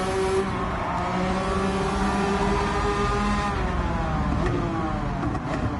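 BMW Z4 engine in Gran Turismo 7 pulling steadily under load, its pitch climbing smoothly through the rev range with a continuous loud drone and no talking.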